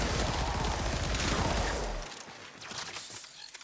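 Rapid continuous firing from the Tenet Diplos in Warframe, a dense rattling burst that runs loud for about two seconds and then cuts off, leaving quieter game ambience and scattered clicks.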